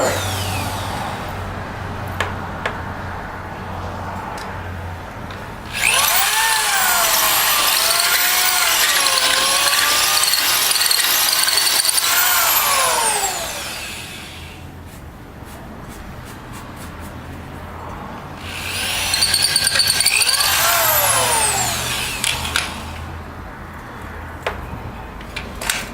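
A power drill bores out a door bushing hole in two long, loud bursts, each with a rising whine and squeal, separated by a quieter pause.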